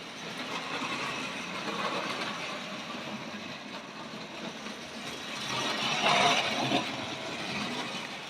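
A Hornby Railways R503 model train set runs around its track with a continuous whirring, clicking mechanical hum that swells louder for a moment near the end before easing off.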